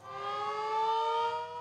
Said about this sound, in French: à 19h précises, une sirène retentit